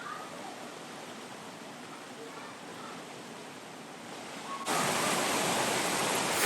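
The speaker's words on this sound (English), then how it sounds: "Look at that beautiful creek." A mountain creek rushes in a steady broadband wash, growing abruptly louder and brighter near the end as if approached more closely.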